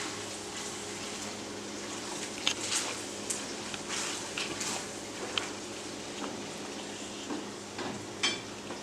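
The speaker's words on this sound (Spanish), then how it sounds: "En lo que se está dorando la carne y la cebolla" Meat and onion, with bacon nearby, brown in a pan while stuffing a turkey, a soft continuous sizzle with faint scattered clinks and spoon scrapes, no talk.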